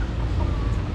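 Young stag roosters and other chickens cluck softly and steadily in a small backyard coop, a close, low chorus with no talking.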